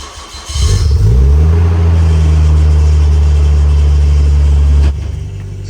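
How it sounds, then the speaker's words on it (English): A Nissan Skyline R34 engine cranks and catches after a brief quiet start, then settles into a loud, steady idle with strong low rumble for several seconds before cutting off near the end. "We're going to start the car up, warm it up"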